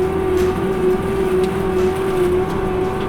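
A disc mulcher's variable speed hydraulic pump spools toward full RPM, a loud steady mechanical whine with a sustained tonal hum and no voices.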